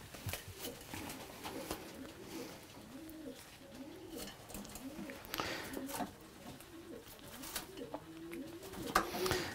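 Racing pigeons coo repeatedly in a loft, soft rhythmic rolling calls overlapping at a moderate distance against faint background rustle and noise.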